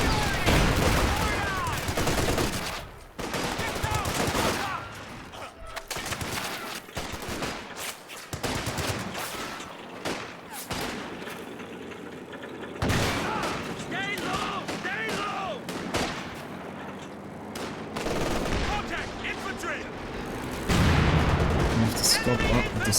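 A coordinated artillery barrage with gunfire in a competitive war video game match: heavy booms and bursts of fusillade roll through in waves, loud and close, while a commentator talks over the shooting throughout.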